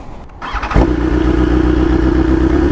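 A big bike motorcycle engine catches and settles into a steady, loud idle, with a low throbbing rumble that continues evenly after the start.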